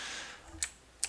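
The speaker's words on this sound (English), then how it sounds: "Don't know why I'm typing that." A few quick keystrokes on a computer keyboard: three sharp, close clicks spaced unevenly over about a second, with no other sound.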